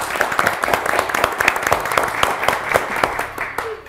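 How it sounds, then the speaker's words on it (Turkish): Studio audience on the Turkish TV word game show Kelime Oyunu applauds the contestants, a dense steady patter of many hands clapping close by, sustained with no one speaking over it. "Bir alkış da size."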